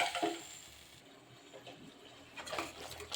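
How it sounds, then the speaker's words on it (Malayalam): Ripe papaya being stirred in ghee in a pan for halwa: soft scraping and stirring strokes over a quiet sizzle, with a louder burst of stirring near the end, close up and no talking. "ഇളക്കി കൊടുക്കാം"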